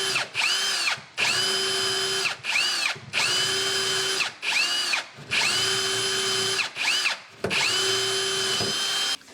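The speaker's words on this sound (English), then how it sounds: "So I'm going to take the 6mm drill bit and I'm going to go straight through." Power drill fitted with a 6mm bit bores through kitchen cabinets in four sustained high-pitched whirring bursts, each separated by a brief pause, close and loud with no talking.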